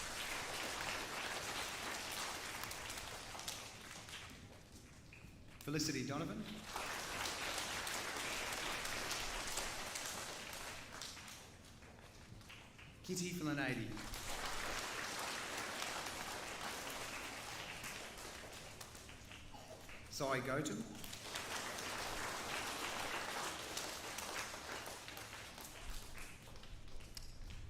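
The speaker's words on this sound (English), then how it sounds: "give him a round of applause" A crowd at a primary school formal assembly claps in three long bursts of steady applause, each broken by a short pause where a voice reads out a student's name.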